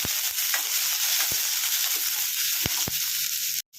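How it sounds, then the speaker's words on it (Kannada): Green chillies fry in hot oil with a continuous loud sizzling hiss and a few sharp taps from a spoon against the pan, cut off abruptly at the end. "ಈಗ ಫ್ರೈ ಮಾಡ್ಕೊಳ್ಳೋಣ"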